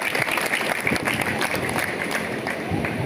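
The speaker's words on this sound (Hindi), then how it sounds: "एक बार इनके लिए भी जोरदार ताली" An audience at a Haryana public event breaks into a round of applause: dense, continuous clapping from a crowd, fairly close, with a voice talking over it.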